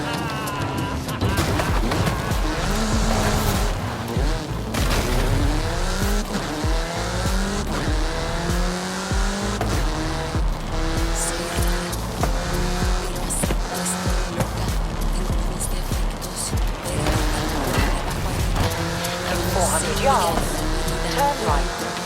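Car driving fast in Forza Horizon 5, engine roaring steadily with repeated tire squeals through turns, loud and close throughout, with a voice talking over it at times.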